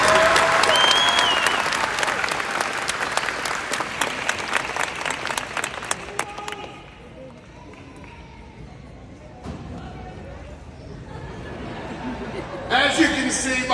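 Graduation audience applause for student speakers, dense clapping that tapers off over several seconds into a quieter hall with faint voices and movement, before a brief burst of noise near the end.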